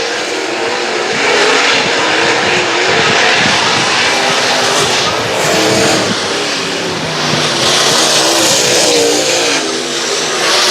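Super late model race cars roar around Brownstown Speedway during a heat race, a dense, loud, continuous engine drone rising and falling as the pack passes, with no talk over it.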